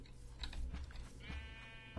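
Sheep bleating in Minecraft, a few short, fairly faint calls over a low background hum, with no talking.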